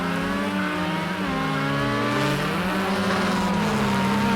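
A Mini race car in Project Cars 2 at Lydden Hill rallycross holds a loud, continuous engine drone from on board, the pitch rising and falling as it accelerates and shifts, with no talk.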